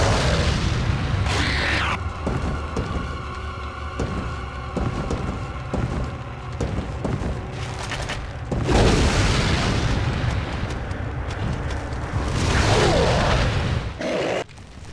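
Incendiary grenades go off during a Resident Evil 4 firefight, giving heavy booming bursts and crackling fiery rumble that fill the whole span under dense game noise, with bigger swells near the middle and end.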